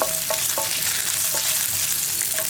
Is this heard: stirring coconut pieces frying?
yes